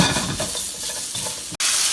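Glass noodles with beef stir-fried in a little oil in a pan, a steady loud sizzle with stirring scrapes throughout, broken by one brief sharp clack near the end.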